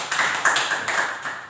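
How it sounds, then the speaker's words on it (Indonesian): A class of students claps for a pupil named Devi during a religious lesson about angels, a short burst of scattered hand claps in a room. "Tepuk tangan untuk Devi."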